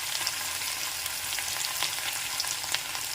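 Fish sizzling in hot oil, a dense, steady frying crackle heard up close and alone for a few seconds.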